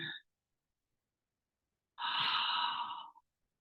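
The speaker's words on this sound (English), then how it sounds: "Breathing." Slow, audible breath during a gentle vinyasa yoga class, a brief exhale at the start followed by a longer, fuller breath of about a second after a pause of silence.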